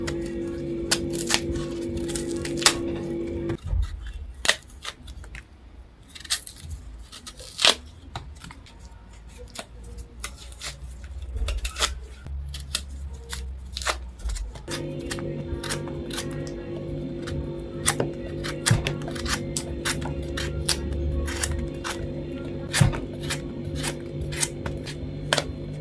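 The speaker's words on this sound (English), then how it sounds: "For the cover, I'll make a line across here, and then I'm going to try to peel it." A knife scores and peels the thick skin from cassava root, giving close, irregular scraping clicks and cuts over a steady background hum that drops away mid-way.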